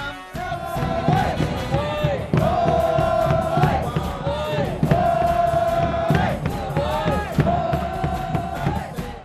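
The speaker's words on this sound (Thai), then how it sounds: "ทุกคนจะร่วมมือร่วมใจกันเชียร์บุรีรัมย์" Buriram FC supporters in a Thai football stadium chant and cheer in unison, a dense loud crowd roar with rhythmic sung phrases repeating throughout.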